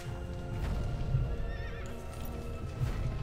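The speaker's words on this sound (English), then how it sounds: "Your horse is here to save you." A horse in the video game Shadow of the Colossus whinnies and neighs while its hooves clip-clop in a steady galloping rhythm, set against a constant game background with no talking.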